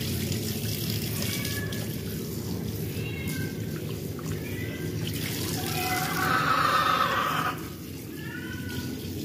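Running tap water splashing in a sink while tawilis fish are washed, a steady stream with a louder gush near the end, and a cat meowing repeatedly over it.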